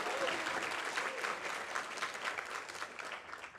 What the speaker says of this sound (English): Your classmates are really clapping it up for you like that.